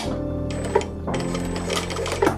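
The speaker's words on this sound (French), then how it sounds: "nous allons pouvoir piquer à la machine tout le long à 1 cm du bord" Domestic sewing machine stitching along a shirt button placket 1 cm from the edge, a close, steady mechanical whir in two runs with a short pause between.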